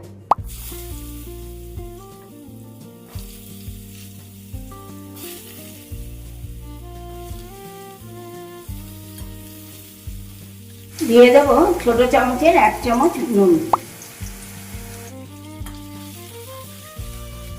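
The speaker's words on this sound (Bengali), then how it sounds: "এই তেলের মধ্যেই আমি কেটে রাখা এই আলুগুলোকে ভেজে নেব।" Oil sizzles and crackles loudly as cut potatoes fry for a few seconds, with a person talking and a soft background tune.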